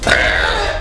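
A single loud, close burp, one sustained guttural croak lasting under a second, alone without other sounds.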